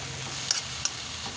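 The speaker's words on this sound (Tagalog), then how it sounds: "Haluhaluin lang natin. Hanggang sa maluto ang ating kangkong." Kangkong with bagoong being stirred in a pan, a quiet steady sizzle of frying with a couple of light scrapes of the utensil against the pan.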